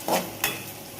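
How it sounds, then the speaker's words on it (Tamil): Onions and curry leaves stirred in a hot pan for a village keerai kootu, two short scraping stirs over a light sizzle, close and alone. "இப்போ நல்லா கலரி விடுங்க."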